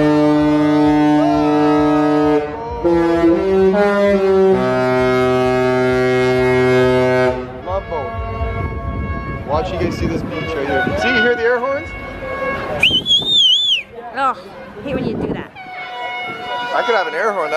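The Regal Princess cruise ship's deep Love Boat horn blasts at a sailaway party, long sustained chord tones for several seconds, followed by a noisy crowd cheering and a voice shouting close by.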